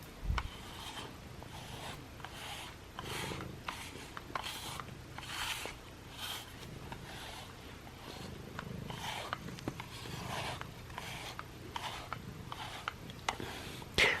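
A cat named Simba purrs steadily while being brushed, with a rhythmic rasp of brush strokes repeating over the low, continuous purr, close and fairly quiet throughout.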